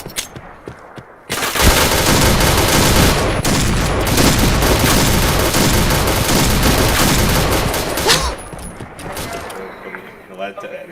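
Rapid automatic gunfire in the shooter game Point Blank, a dense loud burst of shots running for several seconds after a quieter start, then tailing off, with a player talking in between.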